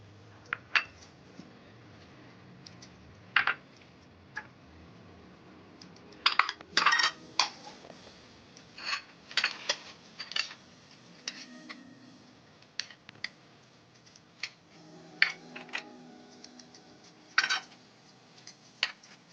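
Semiya cutlet ingredients being mixed by hand in a bowl, scattered soft clinks, taps and light knocks at irregular intervals, close and fairly quiet, with no one talking.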